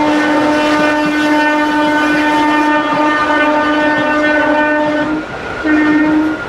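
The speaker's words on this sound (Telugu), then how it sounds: "ప్రజెంట్ మన ట్రైన్ వచ్చేసి 33 minutes డిలేకి అయితే డిపార్ట్ అవుతుందండి ఈ భీమవరం జంక్షన్ నుండి అయితే" A Narasapur–Guntur Express train departing Bhimavaram junction sounds a loud, sustained horn with rich harmonics over rumbling rail noise, breaking off briefly near the end before blasting again.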